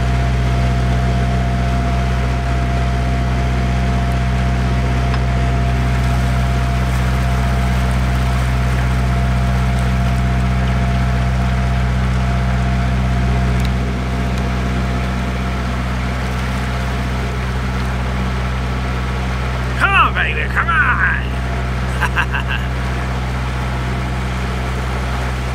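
A narrowboat's steady low engine drone hums continuously throughout, with a faint tonal whine above it and a brief knocking clatter near the end.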